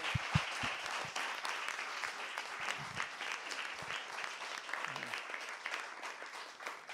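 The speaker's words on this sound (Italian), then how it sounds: "Facciamo un bel applauso." Audience applause at a live talent show in Assemini, a steady wash of clapping from a sizeable crowd that holds evenly for several seconds, with a few sharper claps up front.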